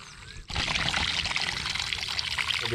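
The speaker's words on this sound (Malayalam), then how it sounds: "ജസ്റ്റ് ഒരു വെള്ളം ഒഴുകുന്ന ആ ഒരു ഐറ്റമൊക്കെ ഇവിടെ ഉണ്ട് കേട്ടോ." Water flows at an outdoor spot in Makrimada near Mavelikkara, starting abruptly as a loud, steady rushing splash that continues up close to the end.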